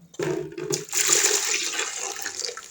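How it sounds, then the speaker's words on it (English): Boiling water is poured in a steady, close splash and stream that rushes on for most of the moment, in a Jamaican backyard garden setting. "Alright guys, so this is the boiling water."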